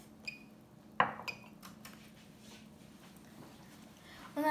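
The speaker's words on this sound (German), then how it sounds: "Und dann rührt ihr das einfach alles um, bis es dann fester wird" Baking soda dough being stirred in a pot on a stove, with sparse metallic clinks and scrapes of a utensil against the pot and a sharp knock near the start, close and quiet.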